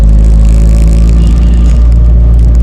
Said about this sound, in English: I can't help for it to sound like, it's like a whining noise